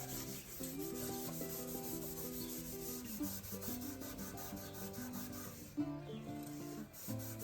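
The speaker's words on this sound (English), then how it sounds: "I'll try a Scotch-Brite pad right quick. Get some of them heavier sanding marks out of it." A Scotch-Brite pad scrubs steadily over the body panel of a 1966 Mustang to take out heavy sanding marks, giving a continuous close, loud abrasive rubbing with slight back-and-forth swells and no voices.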